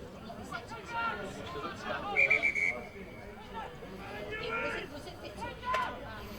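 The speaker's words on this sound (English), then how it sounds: "referee correctly just blowing his whistle just in case of just checking over the England player" Referee's whistle at a student rugby league match, Ireland against England: one short, sharp blast partway through and a brief chirp later, heard under steady commentary and crowd chatter.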